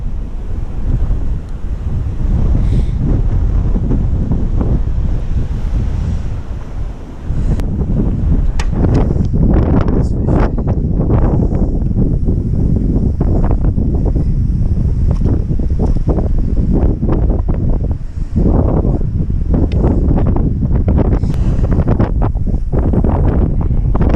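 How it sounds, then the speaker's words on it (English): Strong wind buffets the microphone on a canal bank during feeder fishing, a loud continuous roar with gusts that fills the whole stretch without pause. "very windy today."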